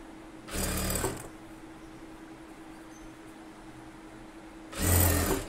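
A tailor's sewing machine stitches the side seam of a blouse at the armhole joint, making two short, close whirring bursts with a quiet pause between them.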